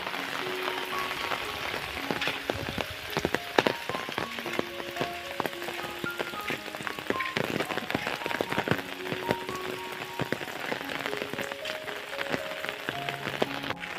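Heavy monsoon rain pours over Konkan fields as runoff water flows, making a dense, steady hiss throughout with faint melodic tones drifting underneath.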